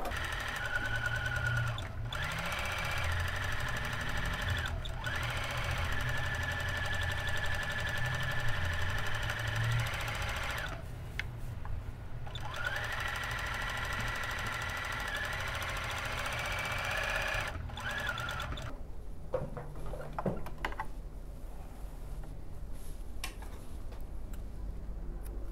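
A sewing machine stitches couched embroidery, running in steady bursts broken by brief pauses before falling quiet near the end; the whirring, ticking mechanism sounds close and alone, with no talking.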